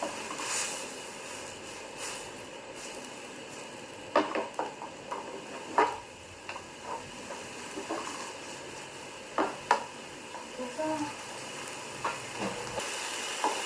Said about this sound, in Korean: 센 불에서 지금 끓이고 있는데 국물이 없으면 더 좋겠죠?